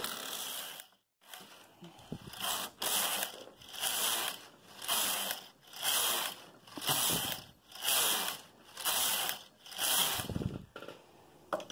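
A knitting machine carriage makes its first pass over a cast-on comb, giving a series of loud, regular ratcheting sweeps, each about a second long, with a brief pause between strokes.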